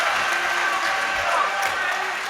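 Home crowd cheering at a girls high school basketball semifinal in a gym, Iolani Raiders against Mater Dei, a steady wash of cheers and clapping filling the hall at a constant level with no clear peaks.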